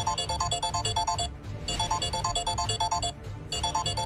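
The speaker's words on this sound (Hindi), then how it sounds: "किसका फोन है?" Mobile phone ringing in a hostel, a repeating melodic ringtone in steady bursts with two short pauses, loud and close with no talk over it.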